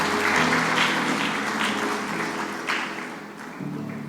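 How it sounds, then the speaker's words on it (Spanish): A church congregation applauds for God after a sermon, with sustained dense clapping filling the hall, loud and steady before gradually tapering slightly. "Fuerte aplauso para Dios."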